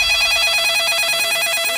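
A phone ringing with a bright, continuous electronic ringtone that holds steady and loud through the whole short stretch, with no voices over it.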